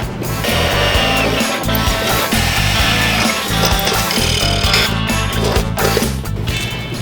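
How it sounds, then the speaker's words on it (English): A loud power drill whines and grinds continuously, drilling out round rivets on a motorcycle fender, biting into metal with rough, stuttering bursts as the pressure shifts. "Drilling at the top of a round rivet is difficult, but it can be done."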